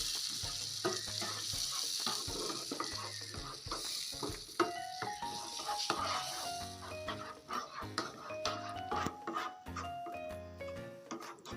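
Cherry tomato sauce with oregano sizzles and fries in a pan, with steady crackling and repeated stirring and scraping of a utensil against the pan, close and fairly quiet, without speech.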